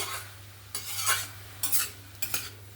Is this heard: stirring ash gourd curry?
yes